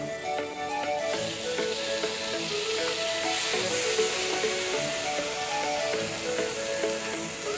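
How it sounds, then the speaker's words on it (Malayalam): Green chilli and tomato go into a pan of cooking onions for a Kerala-style green peas egg masala, giving a steady close sizzle of frying with occasional stirring scrapes and no talking. "ഇനി പച്ചമുളക് ഇട്ട് കൊടുക്കാം. കൂടെ തന്നെ തക്കാളി"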